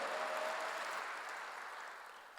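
A church congregation applauding during a sermon, broad steady clapping that slowly fades over a couple of seconds, with no voices on top.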